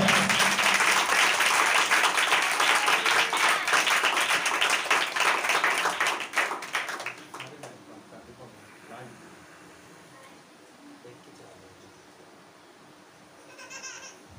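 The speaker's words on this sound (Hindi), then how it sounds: "यीशु मसीह के लिए जोरदार तालियां" Loud crowd applause at a Christian gathering rings out strongly for about seven seconds, then tapers and fades away, leaving near quiet with faint scattered sounds at the end.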